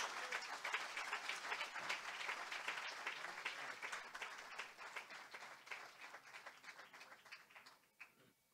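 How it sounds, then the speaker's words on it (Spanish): A church congregation bursts into sustained applause for Jesus during a sermon, a dense wash of clapping that holds steady and slowly thins toward the end, with a few scattered claps at the close. "un aplauso a Jesús"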